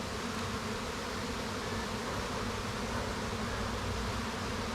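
Honey bees buzz around their hive in a dense, unbroken drone that stays loud and steady throughout, with no voices.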